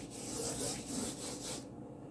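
A cloth wiping across a kitchen surface, a steady close rubbing swish that lasts under two seconds and cuts off abruptly at the end, with no voices.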